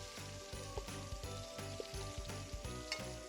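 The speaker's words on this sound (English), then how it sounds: "I'm going to baste the steaks" Steaks sizzling in a hot pan as they are basted, a steady close crackling fry with rhythmic scraping and splashing of spoonfuls of fat poured over the meat, and no talking.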